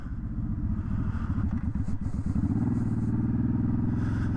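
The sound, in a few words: Suzuki Boulevard M50 cruiser motorcycle riding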